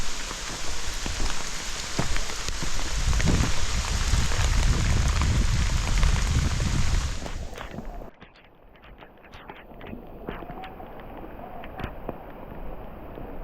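Heavy rain pours at the Garden of Caves in Meghalaya, a loud dense hiss of falling water for about eight seconds, then it drops abruptly to lighter, scattered dripping and patter.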